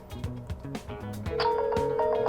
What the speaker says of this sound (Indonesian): ini dia masuk teleponnya